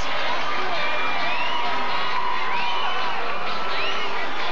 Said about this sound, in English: The crowd totally erupted after that field goal